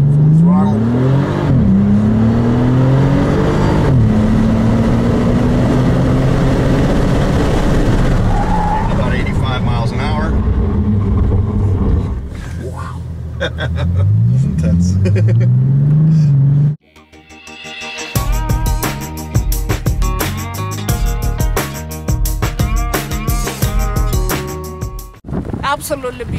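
A Bentley accelerates at full throttle on a track day course, its engine climbing through rising revs with gear changes, loud and close, buffeted by wind noise, before a sharp cut to loud clattering noise later.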